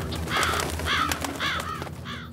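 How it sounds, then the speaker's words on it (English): Several crows caw in a cartoon scene, four or five harsh calls spaced through the stretch over a low background hum, with no voices. "Phew. It's just birds."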